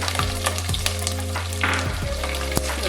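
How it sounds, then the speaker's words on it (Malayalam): Green chillies fry in a spiced masala for Kerala chicken curry, a busy, close sizzle with crackling bursts and stirring scrapes over a steady low hum. "ഇനി ഇതിലേക്ക് പച്ചമുളക് ചേർത്ത് കൊടുക്കാം."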